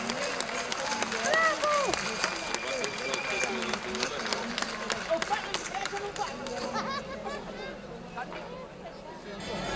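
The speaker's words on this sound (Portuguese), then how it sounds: "Quero ouvir esse aplauso aí embaixo" Steady applause from a large outdoor crowd at a folk dance festival in Portugal, dense and continuous at a moderate distance, with crowd babble, whistles and shouts mixed in throughout.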